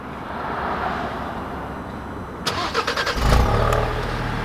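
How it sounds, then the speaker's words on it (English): A 2020 Alfa Romeo Stelvio with a 2-liter 4-cylinder engine is remote started, cranking briefly and then catching into a rev before settling into a steady idle nearby, after a lock beep and outdoor ambience. "and then you can hear that 2-liter 4-cylinder come to life"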